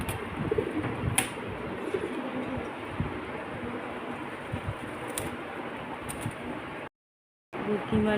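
Soft, low cooing from pigeons that have come indoors, repeating faintly over steady background hiss, with a brief dropout near the end.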